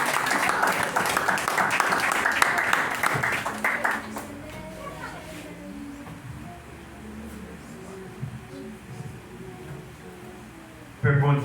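A church congregation applauds and claps loudly during a French-language service, dense clapping for about four seconds before fading into a quieter room with murmuring voices and speech, then a brief loud burst at the end.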